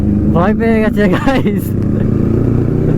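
A Kawasaki Ninja ZX10R superbike engine runs on the road as a steady, loud drone throughout. Someone talks over it at the start.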